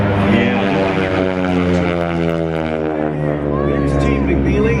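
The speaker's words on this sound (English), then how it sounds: "The noise of that is from the propeller, not the engine." A loud, droning propeller plane roars steadily overhead at the Sun 'n Fun 2021 airshow, its throbbing buzz holding throughout with a faint murmur of a crowd underneath.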